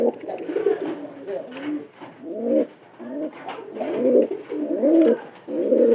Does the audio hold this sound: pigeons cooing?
yes